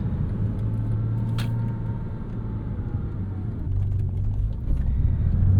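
A stock 3.4 liter sports car engine drones steadily at a low pitch while driving, with a smooth continuous rumble that swells slightly toward the end, loud and close.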